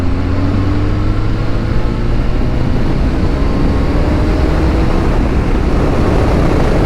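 A Suzuki GSXR1000 sport motorcycle at speed, the engine a loud, dense and steady roar heard from the rider's position under heavy wind rush, with its pitch slowly climbing.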